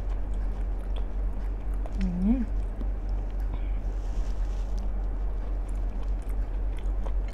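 Chewing of tough, rubbery grilled squid with long, thick tentacles, a long steady mastication heard close over constant low background rumble, with no talking.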